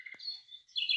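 A small sparrow chirps in short, bright, high-pitched calls, a couple of thin tweets followed by a louder trill, close and alone in a quiet courtyard.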